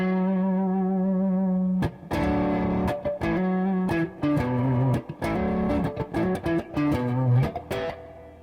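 A distorted electric guitar on a humbucker pickup plays a warm, bass-heavy riff, with sustained low notes broken by quick chord stabs and short pauses.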